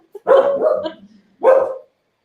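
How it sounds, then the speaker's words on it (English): Two close, loud dog barks, the first drawn out and the second shorter, with a brief pause between them. "it is 4:50 in the afternoon for me, which is why Pucky's so vocal and barking"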